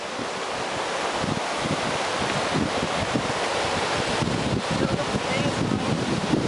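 Strong wind outdoors buffets the microphone in a constant heavy roar with gusty rumbling, filling the whole stretch at close range, and faint voices come through under it.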